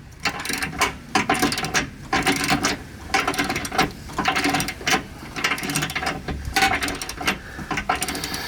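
A hand ratchet tightens the last bolts on a steel Rubicon bumper being fitted to a 2020 Jeep Wrangler, giving loud, rapid clicking bursts in repeated strokes with brief pauses between them.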